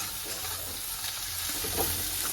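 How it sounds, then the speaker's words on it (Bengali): Steady hissing sizzle of an egg frying in a hot pan before being mixed with vegetables for chow mein, with a faint clink of stirring partway through; no voices. "ডিমটা ফ্রাই হচ্ছে এবারে, ফ্রাই হয়ে গেছে"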